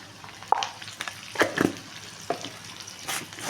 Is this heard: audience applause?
no